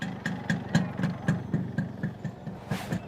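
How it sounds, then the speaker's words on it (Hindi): A motorcycle engine idles close by with a steady, lumpy putter of regular pulses, moderately quiet and alone, without any voices. "क्या मस्त बाइक चालू की है।"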